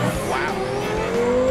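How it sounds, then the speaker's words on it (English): Turbocharged race car at a drag strip pulling hard down the track, engine note climbing steadily as the turbos spool, loud and close, with a voice talking over it. "listen, those turbos kick in"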